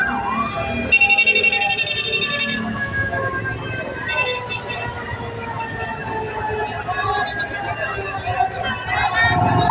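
Fire truck sirens wail and rise at a large residential fire in a Tondo, Manila compound, loud and wavering over a busy crowd of voices and street noise.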